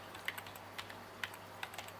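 Keys on a computer keyboard are tapped in a quick, uneven sequence of light clicks, close and fairly quiet against a soft background hum.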